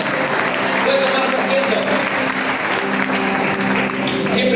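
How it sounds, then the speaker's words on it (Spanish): A church congregation claps loudly and steadily at a worship service, a dense sustained round of applause with faint voices and tones underneath, fading slightly toward the end. "Denle un fuerte aplauso al Señor."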